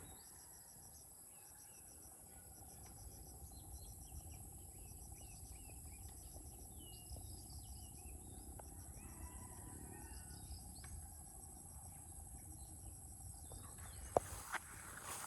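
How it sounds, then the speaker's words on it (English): Birds chirp and call faintly in the distance over a steady hum of insects outdoors in the rural Philippines, with no voices. "If I stop talking, you can hear the birds."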